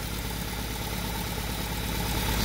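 A Mitsubishi Lancer Evolution IV with a 1.8-liter engine and a small exhaust leak idles steadily nearby, a continuous low rumble with a faint mechanical vibration and no voices.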